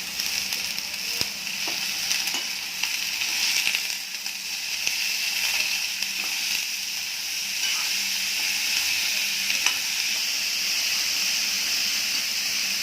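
Sliced red pumpkin sizzles and fries in a hot pan, giving a steady bright hiss with small crackles and occasional stirring clicks, close and even throughout.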